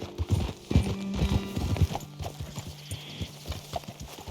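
Horses' hooves clip-clop on a road in Red Dead Redemption 2, an uneven series of close hoofbeats with a brief whinny, fairly quiet and with no talk over them.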